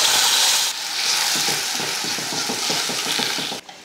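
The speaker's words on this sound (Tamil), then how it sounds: "தயிர் இதில் சேர்த்துடலாம்." Curd is stirred into a hot tempering of curry leaves, dried red chilli and turmeric in a pan, giving a loud steady sizzle with rhythmic scraping strokes of the spoon, close up and without speech.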